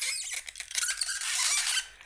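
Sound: 3D printed camera dolly squeaking

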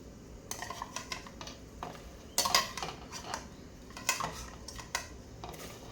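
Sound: adding grilled catfish into a pot of glass noodle curry

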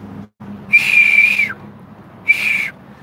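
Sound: person whistling loudly

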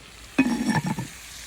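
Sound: onion frying in a clay pot on a clay oven

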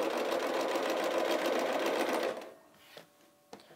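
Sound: sewing machine stitching quilt binding

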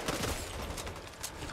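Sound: gunshots in a video game

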